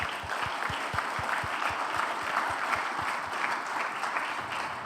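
A crowded audience at a career-guidance event claps steadily and densely for a speaker, a thick, continuous wash of applause that holds at an even level throughout with no talking over it.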